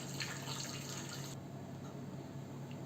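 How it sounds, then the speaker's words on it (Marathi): Hot water poured into a pot of smashed tomato curry, a steady hissing, splashing pour close by that thins out partway through, with no talking. "त्यामध्ये ओतूया गरम पाणी"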